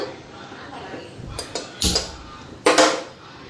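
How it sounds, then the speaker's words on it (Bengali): A heavy metal wok clanks down onto a stove with a few short knocks and a louder scrape near the end, over a faint room murmur. "এদিকে কড়াই বসাই দিলাম"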